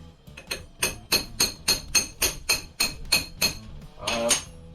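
Hammer blows ringing on metal while a Nissan RD28T injection pump is prepared, about a dozen sharp, evenly spaced strikes in a steady rhythm, close and loud, then a final rattling clatter.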